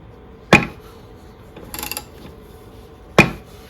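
Puller on a threaded rod working a stuck part off a 1961 Bolens engine, giving two sharp, loud cracks a few seconds apart with a softer scraping rattle between them, close by.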